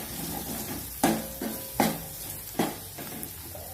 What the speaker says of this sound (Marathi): हे सर्व छान मिक्स करायचे आपल्याला